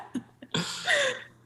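A single loud, harsh cough with a rough, drawn-out tail, preceded by a couple of small throaty clicks, close to the microphone in an otherwise quiet setting.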